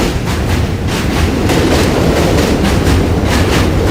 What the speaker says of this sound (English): the bridge just bounced again for the train on the other side of the structure